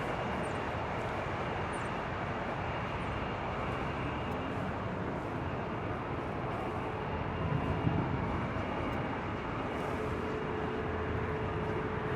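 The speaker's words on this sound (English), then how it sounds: "It's Flight 8 heading to Paris in the 787-9 Dreamliner, just 4 years of age." A Boeing 787-9 Dreamliner, four years old, operating as Flight 8 bound for Paris at LAX, produces a steady broadband jet roar that stays loud and unbroken throughout, with no talk.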